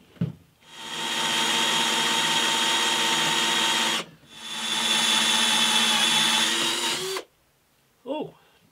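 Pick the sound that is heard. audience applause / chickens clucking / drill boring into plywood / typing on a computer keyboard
drill boring into plywood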